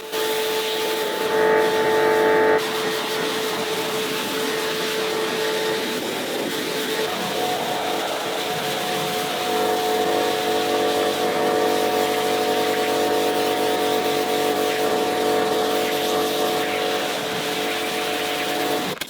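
A pressure washer rinses snow foam off a BMW 1 Series, its steady loud hiss and spray continuous and close, with a pump tone running underneath throughout.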